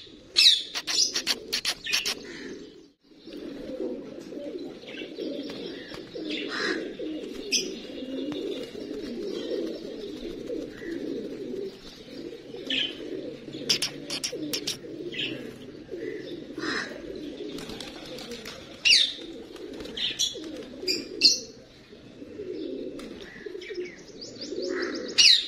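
A flock of pigeons cooing steadily at a village pigeon loft in Punjab, a continuous close warbling murmur broken by scattered sharper chirps and brief flutters.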